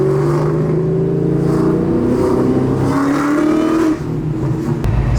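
A Ford Mustang 5.0 V8 in the S197 generation, modified and lowered, rumbles loudly up close with a rising, wavering engine note, then dips briefly and settles into a steady throaty idle.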